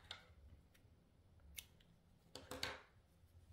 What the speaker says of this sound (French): on coupe notre fil